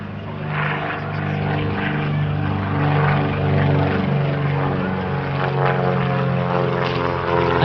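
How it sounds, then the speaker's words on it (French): A propeller airplane, a liaison and transport type, flies low and loud over the Limoges Bellegarde airport air show, its engine drone steady and continuous with a throbbing, rising and falling tone throughout. "Un avion de liaison, un avion de transport, et quand on le voit évoluer aujourd'hui dans le ciel de Limoges"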